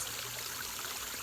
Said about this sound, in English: the swishing and rustling sound of the water pouring gently over the rocks